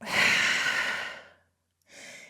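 During a yoga flow in downward dog pose, a long, deep, breathy exhalation sounds close to the microphone and fades out, followed after a short silence by the start of another breath.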